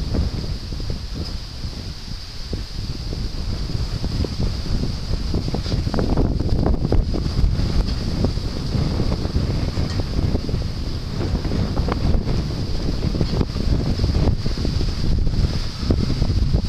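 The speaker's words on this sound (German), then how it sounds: "Ach, es ist so windig heute." Strong wind by the sea buffets the microphone in a constant roaring rush, with steady hiss and rumbling gusts throughout, no voices.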